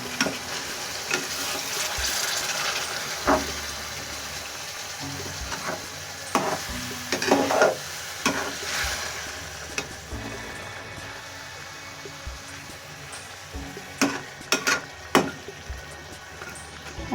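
A spoon scrapes and stirs through a pan of shorba-style fish curry after a glass of water is added, with irregular stirring strokes and clinks over a steady simmering sizzle, close up and without talk.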